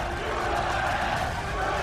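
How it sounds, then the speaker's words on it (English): A large esports stadium crowd cheers during the 2016 League of Legends World Championship, a steady, dense roar of many voices sustained evenly throughout without breaks. "You can hear just how happy the crowd are about it."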